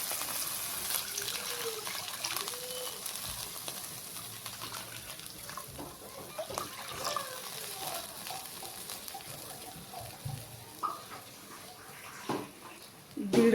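A cupful of water is poured into semolina frying with green chillies in a pan, producing gushing, hissing sizzles and stirring scrapes. The sounds come in bursts at moderate loudness.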